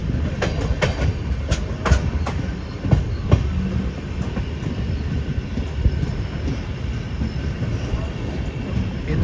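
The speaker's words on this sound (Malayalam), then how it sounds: "നമ്മുടെ ലോക്കോമോട്ടീവ് കാണാം." Donyi Polo Express train running on the rails, with continuous rumbling rolling noise and irregular clicks and clacks from the wheels, heard up close from inside the moving carriage without talk.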